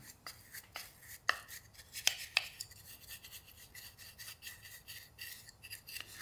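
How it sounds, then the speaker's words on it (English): Hand sanding inside a scroll-saw cut-out in a workshop, heard as a steady dry rasping scrub with a few sharper scrapes, fairly close and moderately quiet, with no talking. "we're just sanding on the inside of there"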